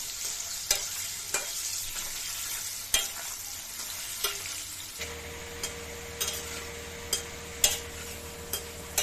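Potatoes frying in a pan with salt and turmeric for a prawn and banana-flower dish, a steady close sizzle with sharp utensil scrapes and taps recurring throughout, the hiss thickening into a fuller, hum-backed fry halfway through.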